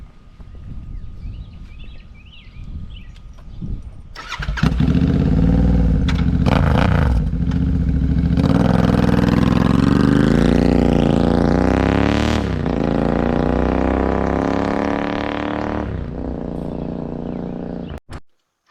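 A motorcycle fitted with a Booster Plug starts up and rides off, its engine loud and close, revving and climbing through the gears with rising pitch sweeps before dropping back and cutting out near the end.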